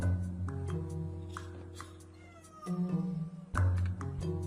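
A domestic cat meows, with a couple of drawn-out calls rising over a sustained musical score that plays throughout.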